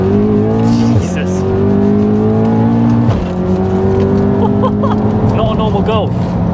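A tuned big-turbo 564bhp MK7 Volkswagen Golf R revs hard and accelerates close by, its tone rising in steady pulls and dropping briefly at gear changes, loud throughout.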